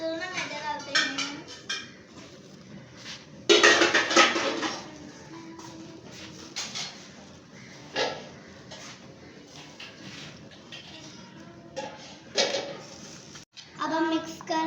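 Maida flour being mixed in a bowl at home among friends, with irregular clinks and scrapes of a utensil against the bowl and bursts of clatter between stretches of nearby children's talk.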